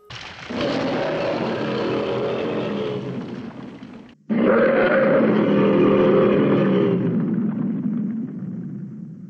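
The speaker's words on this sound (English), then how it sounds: "His roars are on the lazy side, being that they were recycled roars from the Toho King Kong, albeit slightly modified to give a unique sound." King Caesar, a Godzilla kaiju, gives two long, loud roars built from slightly altered Toho King Kong roars. The first fills about four seconds and a brief gap separates it from the second, which is equally harsh and sustained. No one speaks.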